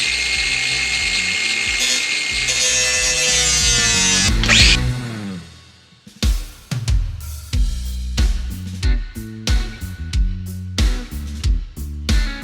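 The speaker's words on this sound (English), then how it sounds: "I'm going to cut this with a cutoff wheel" A cutoff wheel grinding through metal on a buggy: a loud, high-pitched whine that winds down, then a string of short, harsh bursts of cutting, close and dominant.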